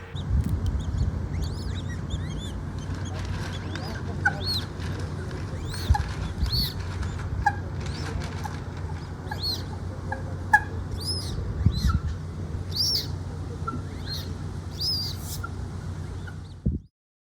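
Fluffy ducklings at a narrowboat's duck hatch on a canal keep up a busy chorus of high, thin peeping calls, scattered chirps over a low steady background rumble, continuing for many seconds without any talk.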